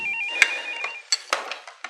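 A telephone rings in short electronic trills, fairly close and alone, followed by a few sharp clicks and taps.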